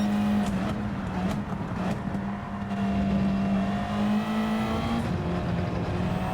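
Race car engine in the Gran Turismo racing game holding a steady droning note as it pulls out of the Parabolica corner in third gear, loud and continuous with no voices over it.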